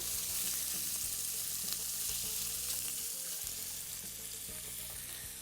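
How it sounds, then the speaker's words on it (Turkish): Spicy meat and noodle soup sizzles and fries steadily in a pot while a utensil stirs and scrapes through it, close up and fairly quiet. "Şöyle bir karıştırıyorum."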